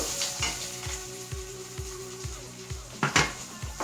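Onion dropped into hot oil after mustard seeds sizzles steadily in a pan, with a bright continuous crackle, a few clinks of the pan and a louder burst of spitting near the end, close and without talk.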